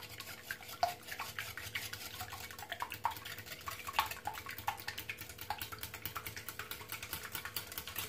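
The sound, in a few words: whisking olive oil batter with a whisk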